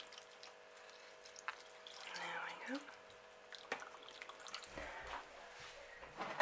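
Water is poured over a freshly repotted potted plant, giving a soft trickle and scattered drips nearby, with quiet speech from a person over it.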